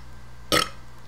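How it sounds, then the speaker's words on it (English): A single loud, close burp from a man playing a video game, lasting about a tenth of a second and standing out sharply from a quiet background. "Yeah, I burped."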